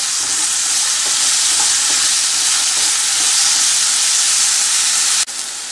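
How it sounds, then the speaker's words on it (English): Crushed ginger and garlic sauté with onions in a hot pan, giving a loud, steady, close sizzle with faint stirring scrapes that ends in a sudden small knock near the finish. "Sort it nicely until remove the raw smell of this ginger and garlic."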